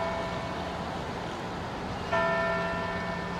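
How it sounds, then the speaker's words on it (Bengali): A town hall bell in Kingston, Canada strikes the 5 pm hour over steady street ambience, its ringing tone entering clearly partway through and sustaining with a bright, resonant hum. "বিকেল 5টার ঘন্টা পড়ল।"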